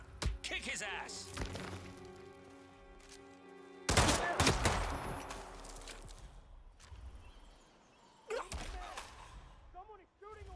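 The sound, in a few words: weapon gunfire in a video game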